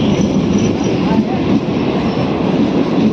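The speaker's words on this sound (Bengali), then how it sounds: "ট্রেন দেখা হলো, এবার ট্রেন চাপার পালা" A train at a railway station in Purulia rumbles steadily and close for the whole stretch, a dense continuous rolling noise with faint chatter from the platform crowd mixed in.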